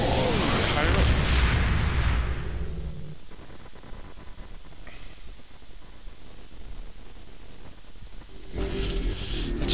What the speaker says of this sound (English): The torpedo I'm using the enhanced biomolecular torpedo.